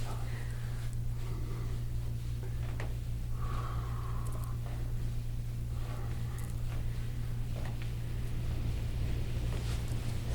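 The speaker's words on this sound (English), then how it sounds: "So windy." Steady wind rumbles and buffets against the microphone throughout, with a low constant drone underneath and faint bits of sound passing over it.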